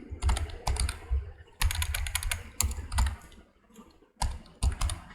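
Typing on a computer keyboard while coding a Python FastAPI backend: bursts of rapid, close key clicks with short pauses between runs, loud and clear with no talk over them.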